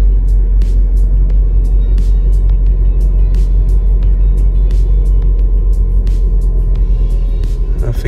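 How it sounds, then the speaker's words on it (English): The electric radiator cooling fan of a Vauxhall Meriva with a faulty coolant temperature sensor runs constantly, giving a loud, close, steady whirring drone with faint intermittent clicks on top. "I think I can hear the cooling fan going now."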